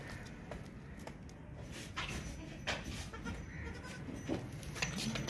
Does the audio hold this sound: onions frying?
no